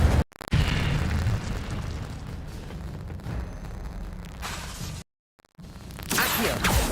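A fire spell cast in a Hogwarts wizarding video game, a loud explosive burst followed by a sustained roaring whoosh, a brief silent gap, then another rushing blast.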